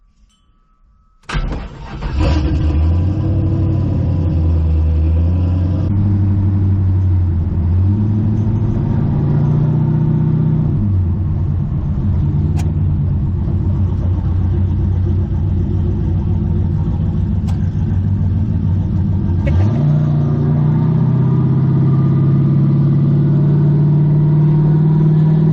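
A car engine starts and runs steadily while the car drives, with rumbling and occasional revs and shifts in pitch, close and continuous with no talking.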